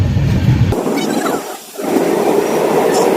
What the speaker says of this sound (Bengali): এখন কিন্তু আমাদের ট্রেন সেই স্টেশন চলে এসেছে